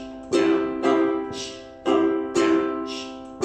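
Close solo ukulele plays strumming pattern number 8, bright chord strums broken up by scratchy muted slaps in a steady repeating cycle of downs, ups and chucks, with no voices.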